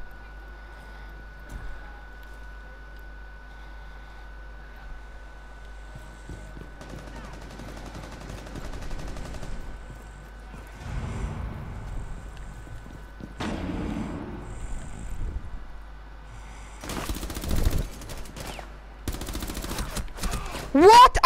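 Gunfire in a shooter video game: several bursts of loud, sharp shots toward the end, with quieter game sounds and talk earlier on.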